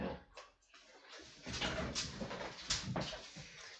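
Marlo the dog whimpers and whines indoors, a quiet series of short, high, breathy cries with small pauses between them.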